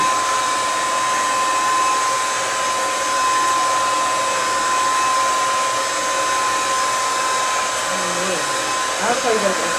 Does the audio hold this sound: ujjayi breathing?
no